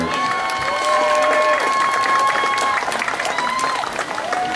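Crowd applause and cheering at a high school senior night honoring senior football players, sustained clapping with shouts and voices, a public address tone lingering over it.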